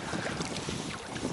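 Strong wind blows across a fishing boat on open water while an 8-metre rod is in use, a steady loud gusting rush with low rumble throughout, with no voices.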